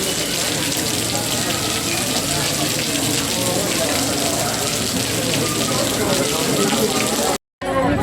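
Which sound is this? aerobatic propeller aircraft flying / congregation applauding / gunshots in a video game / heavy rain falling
heavy rain falling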